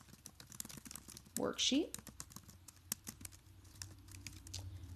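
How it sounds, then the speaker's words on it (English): Typing on a computer keyboard, a quick run of light, close key clicks that continue while a voice speaks. "I would type in participation achievements"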